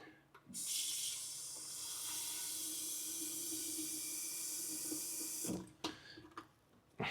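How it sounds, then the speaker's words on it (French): Water gushes from an opened kitchen tap in a steady, fairly loud hissing stream for several seconds, then cuts off with a few brief splashes. "J'ouvre le robinet."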